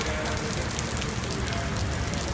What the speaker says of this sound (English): A lot of flooding rain going on.